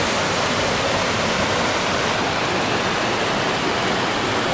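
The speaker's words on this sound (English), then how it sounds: "our first waterfall in Iceland" Roaring waterfall in Iceland, a dense, steady rush of falling water that fills the whole clip loudly and evenly, with no voices.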